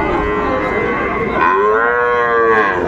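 A young Sahiwal bull calf at a cattle market gives a loud, drawn-out moo that runs through the whole moment, rising and falling in pitch, with market bustle faintly underneath.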